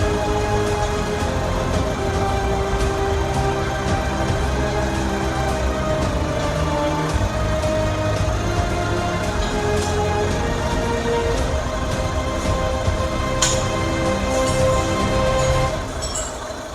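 A 2016 Skoda Rapid with a 1.6 TDI diesel engine idles steadily with a constant hum and faint clatter, close by and unbroken for the whole stretch, with no voices over it.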